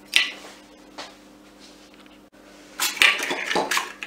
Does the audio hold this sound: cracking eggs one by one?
yes